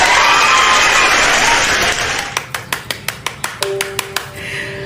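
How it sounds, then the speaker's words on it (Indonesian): Audience applause fills the first two seconds as a loud, dense clatter of many hands, then thins into a dozen or so separate, evenly spaced claps close by, with a faint tone underneath. "tepuk tangan semuanya"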